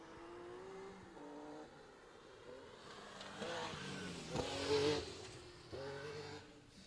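Porsche 911 rally car on a forest special stage at Castle O'er, engine rising as it approaches and revs hard, louder mid-clip with gear changes, then fading through the trees against a quiet background.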